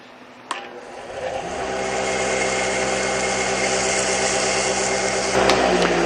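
A power sander with 150 grit sandpaper works an aluminum Christmas tree ornament, starting with a sharp click and then a steady, loud whirring grind that holds close and continuous to the end.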